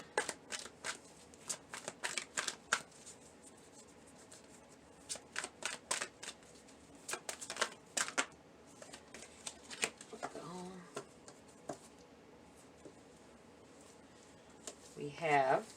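Tarot cards riffled and shuffled by hand in quick crisp bursts, close and fairly quiet, with someone speaking softly between and over the shuffles.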